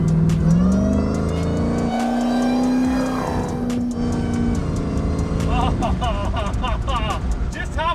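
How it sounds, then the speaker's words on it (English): A supercharged car, due for tuning before a dyno run, accelerates hard onto a highway at merging speed, its loud engine climbing through the gears with a rising blower whine, then shifting and pulling again close up from inside the cabin. "like laying into it a little bit, merging speed, it whines so good. Usually that's a bad thing, but it's all blower."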